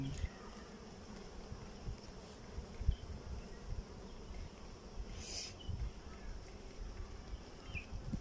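Honey bees buzzing around a beehive on a bee farm, a continuous soft hum of many insects close by with faint scattered knocks and rustles, no voices heard.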